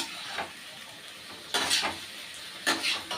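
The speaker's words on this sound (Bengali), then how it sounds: "ভালো করে আমি মিক্স করবো আলুগুলো" Potatoes being mixed in a pan of vegetable curry, with a few soft scraping stirs and light sizzle, two louder strokes near the end, no talking.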